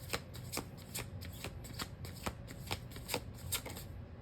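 Tarot cards shuffled in steady repeated riffles, close and quiet, with crisp bursts of card flutter at a regular pace and no talking.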